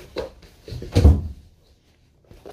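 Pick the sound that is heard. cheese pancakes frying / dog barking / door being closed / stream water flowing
door being closed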